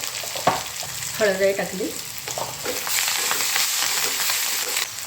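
Cumin and mustard seeds fry in hot oil in a village kitchen with a loud, continuous crackling sizzle, and a voice speaks briefly over it.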